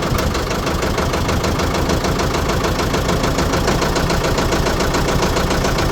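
Diesel engine of a Ford 675D 4x4 backhoe loader running after long storage, a steady close rumbling idle with a rapid knocking pulse throughout.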